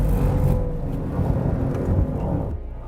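A Mercedes-AMG GT 63 4MATIC+ accelerates hard in second gear in drift mode, a deep, loud, close engine roar that builds and then eases off near the end.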